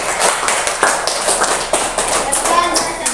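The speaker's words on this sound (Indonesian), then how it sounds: "Tepuk tangan dulu, Ana." Children in a classroom clap their hands in a burst of applause, a dense, loud patter of many hands close by, with voices mixed in.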